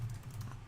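Quick, light keystrokes on a computer keyboard while a template name is typed, a rapid run of soft clicks heard close and faint with no talking.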